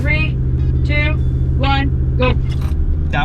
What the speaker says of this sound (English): Mitsubishi Outlander and the Hyundai Santa Fe in 3, 2, 1, go. That was a perfect launch.